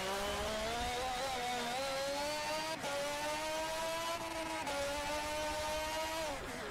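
Turbocharged 1.6-liter F1 car engine in Forza Motorsport 7 on the Nordschleife, a loud, steady high-pitched whine held near the listener, with pitch rising through the gears and two brief dips at upshifts.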